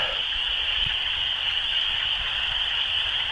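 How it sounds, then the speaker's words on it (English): Dense chorus of frogs croaking around a stealth campsite in a thicket, a continuous shrill trilling racket from several sides at moderate volume, with no voices. "with this frog racket on three sides of me"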